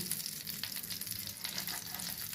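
Pieces of spicy street-style fish sizzle in hot oil in a pan: a dense, steady crackling hiss with small popping spurts, heard close and continuous with no talking.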